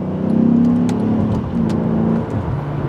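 A car with an automatic transmission revs up loudly as it downshifts into second gear, a close throaty roar that rises and then settles back to a steady drone.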